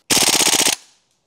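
An airsoft pistol rapid-firing BBs, a loud, tight burst of about a dozen evenly spaced shots lasting under a second, then a brief fading tail.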